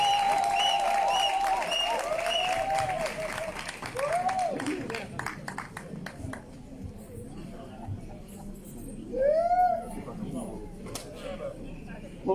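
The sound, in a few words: audience applauding a speaker's arrival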